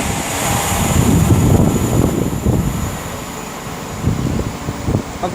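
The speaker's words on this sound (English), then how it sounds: "now I'm about to pass through will be 39107 for Avanti West Coast" Avanti West Coast Class 390 train, 39107, running through Nuneaton station on a London Euston to Manchester Piccadilly service, giving a close, broad rushing roar with rumbling bursts that fades a little midway before pulsing again.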